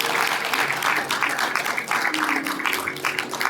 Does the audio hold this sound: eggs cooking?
no